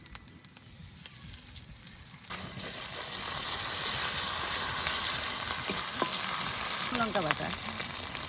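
Onion and garlic, then ginger, cumin and coriander paste, fry in a pan of hot oil with a steady, loud sizzle that grows after a quieter start, with occasional stirring scrapes and brief speech.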